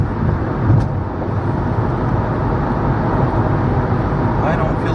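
A car cruises southbound on the 57 freeway at night, with steady road and tyre rumble from inside the cabin and faint traffic around it.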